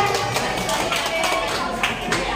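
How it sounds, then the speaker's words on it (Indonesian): A room of teachers and students at a junior high school in Indonesia clap together in a steady, dense wash of applause, with voices mixed in underneath. "Oke, tepuk tangan."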